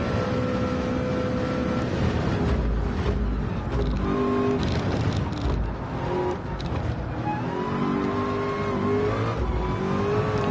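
Race cars, including a Supra and Honda GR3 machines, lap Le Mans in a VR racing game, their engines revving and shifting in continuous overlapping whines with rising and falling pitch, loud throughout and with no speech.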